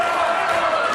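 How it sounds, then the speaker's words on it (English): A wrestling arena crowd chants a name in a sustained, loud roar of many voices, filling the space without pause. "As the crowd starts a Juan chant."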